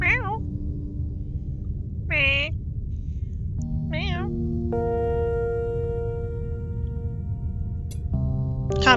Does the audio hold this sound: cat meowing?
yes